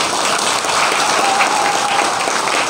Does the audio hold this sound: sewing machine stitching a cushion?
no